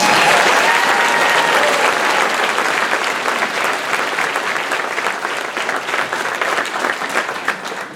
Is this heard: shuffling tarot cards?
no